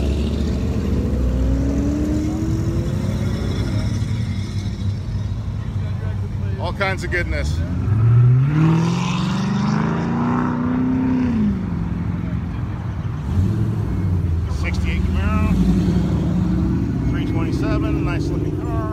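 Cars roll past at a muscle car cruise rollout, engines rumbling and one revving up through a rising pass, loud and close, with people talking over the traffic noise.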